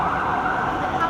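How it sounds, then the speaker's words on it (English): Police car sirens wailing past on a London street near Trafalgar Square, a loud, steady continuous tone over traffic noise with faint voices. "lots of police cars went flying by"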